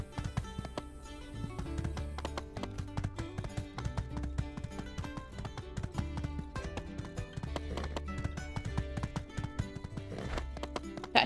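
Rapid rhythmic hoofbeats of a galloping horse in the video game My Time at Sandrock clop continuously alongside background music, steady and close.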